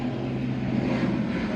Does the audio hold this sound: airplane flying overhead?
yes